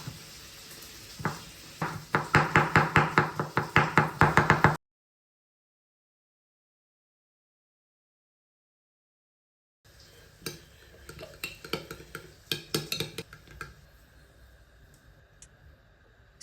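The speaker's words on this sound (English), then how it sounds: "In a bowl, mix mayonnaise, ketchup, mustard, and chopped pickles to create the sauce." A spoon stirs mayonnaise, ketchup, mustard and chopped pickles together in a bowl, giving a run of quick rhythmic scraping clicks. The bursts come close and clear, with a long silent gap between the two stretches of mixing.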